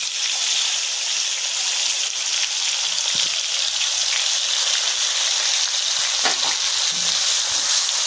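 Tomatoes sizzle loudly and steadily in hot oil in a pan, with occasional soft scraping of stirring.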